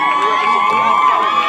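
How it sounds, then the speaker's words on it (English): A crowd cheers at a youth rugby sevens match on a sports day, steady loud shouting and whooping from spectators that sounds somewhat distant across the field. "You can hear the crowd on the far side behind their team."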